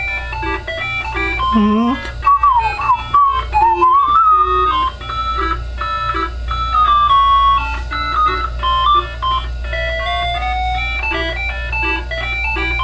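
Bright, beeping Tandy 1000 RL computer game music with simple square-wave melodies and chirpy pitch sweeps, playing steadily and loudly from start to finish.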